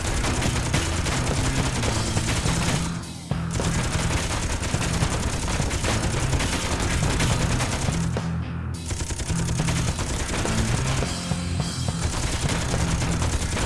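A ship's gun fires in the Space Engineers video game, a loud, nearly continuous rapid-fire stream of shots with brief breaks, dense and close throughout.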